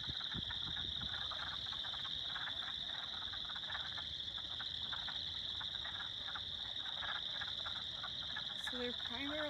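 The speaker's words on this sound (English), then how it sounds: "we are listening to the frogs" A dense, continuous chorus of frogs calling from a flooded pond, two main species, with a steady high trill and layered croaks throughout, no talking.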